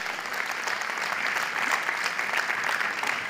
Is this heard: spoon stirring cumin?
no